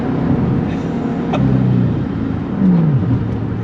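A 2011 Ford Mustang Shelby GT500 heard from inside the car during a first-gear run, with a loud, low engine roar that holds steady and then rises in pitch as it accelerates.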